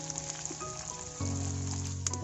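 Chopped onions fry in hot oil in a pan for besan curry, giving a steady, close sizzle that swells louder partway through, with no talk.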